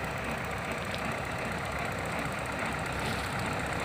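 New Holland TD90 tractor cutting pineapple plants in a field, a loud continuous engine drone with dense mechanical rumble and no pauses, no talk.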